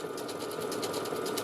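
A sewing machine chain-piecing fabric squares together with a blanket stitch, running steadily with a fast, even mechanical whir and rhythmic needle ticking, close and alone.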